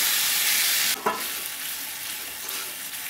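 Cooked moong dal goes into a hot pan, bringing a loud wet splash and a steady sizzle that continues with faint stirring scrapes, with no talking.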